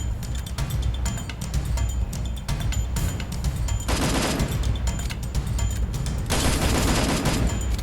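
Rapid bursts of M4A1 rifle fire in a battle-royale video game, loud and continuous, with sharp rattling volleys that swell in two intense stretches over a constant mix of game effects.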